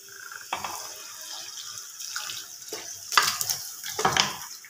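Hot water poured into a simmering mutton curry in a home kitchen, a few separate splashing pours of liquid at close range with no talking.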